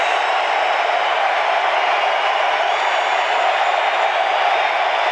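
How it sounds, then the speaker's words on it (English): Roar of a football stadium crowd over a radio broadcast as a 48-yard field goal attempt flies, a steady, dense wall of cheering noise that holds loud and unbroken from start to finish. "Crowd roaring."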